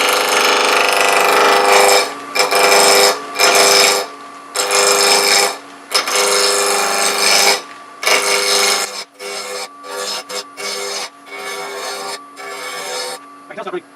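A wood lathe rough-turns a green, wax-sealed acorn box blank. The gouge rasps and scrapes loudly in repeated long passes, each broken by brief pauses.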